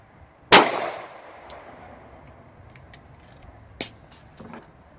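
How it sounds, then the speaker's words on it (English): A 9mm 124-grain ball round fired into a book bag on a test dummy, one loud sharp gunshot with a ringing tail, followed by a smaller sharp crack later and faint clatter. "We're going to start with our 9mm, 124 grain ball ammunition."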